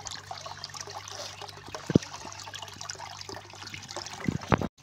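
Fish are washed by hand in water, with a close, soft trickling and sloshing that runs throughout and ends in a few louder splashes.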